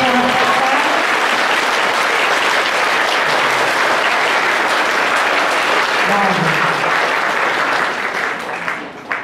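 A crowd at a flag hoisting and candle lighting event for Shiv Jayanti claps steadily and loudly for several seconds before the applause begins to fade.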